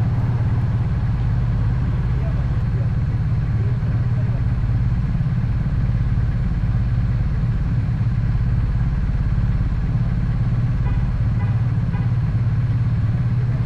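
A motorcycle engine drones steadily throughout, with low rumbling and some wind or road noise, fairly loud and constant.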